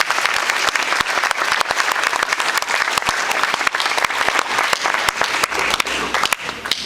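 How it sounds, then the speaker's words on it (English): A large audience at UCF applauds Dr. Norman Finkelstein after his presentation, loud sustained clapping from many hands with sharp individual claps standing out, continuous throughout. "would like to give a big round of applause to Dr. Finkelstein"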